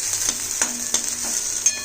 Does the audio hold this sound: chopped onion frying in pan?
yes